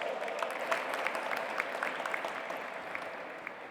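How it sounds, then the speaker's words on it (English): An audience at the G20 Interfaith Forum valedictory session in Pune gives a big round of applause, dense steady clapping filling the whole stretch with a few sharper individual claps standing out. "Please welcome her with a big round of applause"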